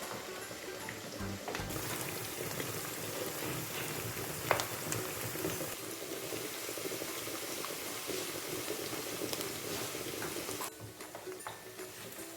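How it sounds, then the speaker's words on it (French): Onions sizzling in hot oil in a pan, a steady, fairly quiet crackling hiss that runs throughout with a few small pops. "Elle est chaude, les oignons, ça frit déjà"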